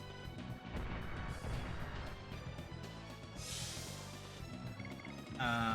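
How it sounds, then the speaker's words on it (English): A cannon is destroyed in the video game Legend of Dragoon, with dense crashing and booming impacts over game music, followed by a bright burst and a rising flourish near the end. "We've now destroyed the cannon."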